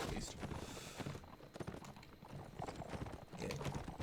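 Horse hooves gallop in a Mount and Blade Warband battle, making rapid clip-clop clatter over a busy din of combat noise and indistinct voices.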